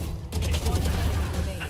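Rapid bursts of gunfire in a round of a competitive shooter game, loud and continuous over a low rumble, with a commentator's voice mixed in.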